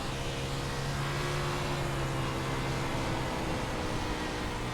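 A sprint car in the iRacing sim runs on the dirt Bristol track, its engine giving a steady, loud, droning roar with a wash of noise and no voices.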